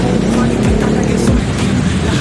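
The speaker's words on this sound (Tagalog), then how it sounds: "Testing tayo ngayon ng pressure washer" An induction-type pressure washer with a large motor runs steadily and loudly up close, a constant mechanical hum with shifting tonal whine beneath faint voices.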